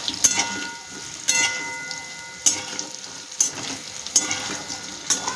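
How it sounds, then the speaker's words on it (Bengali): Lentil dumplings (bori) fry in oil in a pan, giving a steady soft sizzle punctuated by about six sharp clinks and scrapes of stirring. "বড়িটাকে একটু ভেজে তুলি"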